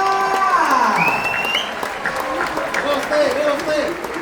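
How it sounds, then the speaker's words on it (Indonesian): Lively audience applause at a school expo after a colossal theatrical performance, sustained crowd clapping with bright whistle-like tones and a sliding musical note early on, plus some voices mixed in. "Mari berikan tepuk tangan yang meriah untuk Batavia Etnika"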